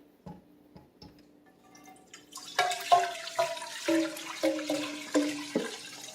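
Hot liquid from a braised chuck roast pours into a kitchen sink in a run of splashing, dripping bursts that grow louder partway through, alone with no talk.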